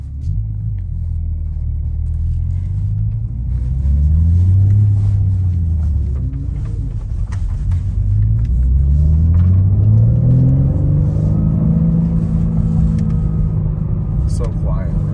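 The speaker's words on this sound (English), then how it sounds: "we'll go back to rolling burnouts again." BMW G80 M3 engine working through rolling burnouts, a loud close low rumble rising and falling in repeated revving sweeps as the car accelerates, with faint tire and road noise underneath.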